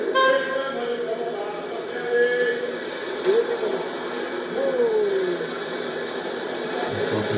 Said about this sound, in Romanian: Claxonează.